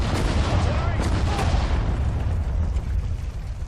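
Artillery return fire in the video game Sudden Strike 4, a dense, continuous rumble of booms and blasts that stays loud and steady throughout with no distinct gaps.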